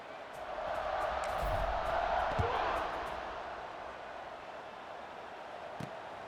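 A stadium crowd in EA Sports College Football 26 gives off a low, continuous rumble of noise that swells briefly and then settles, with a few faint thumps.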